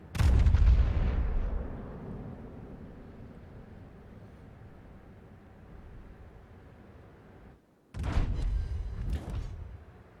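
Naval shell gunfire in the World of Warships game, with a loud booming salvo at the start that rumbles down into a long low roar, then a second heavy burst of shots near the end.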